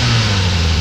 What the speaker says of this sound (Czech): Zkus protočit motor.